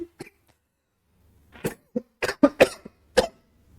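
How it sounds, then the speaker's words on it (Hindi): Several sharp coughs in quick bursts, close and fairly loud, separated by short silences, with a throat-clearing sound among them. "खांसी आ रही थी"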